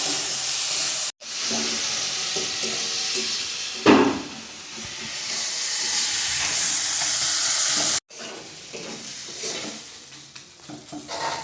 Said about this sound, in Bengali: কচুর ফুলগুলো দিয়ে ভালো করে ঘেটে ঘেটে রান্না করে নেব